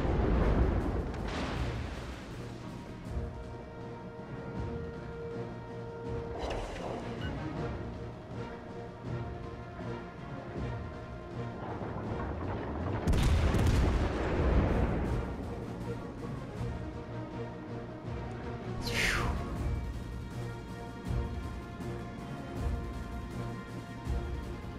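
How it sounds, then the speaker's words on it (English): Naval artillery fires in World of Warships: Legends aboard the tier VII cruiser Anchorage, with several booming salvos standing out over a dense, continuous battle din. The blasts are heavy and close, and they are spaced irregularly across the stretch. "Stations requesting fire on the designated target."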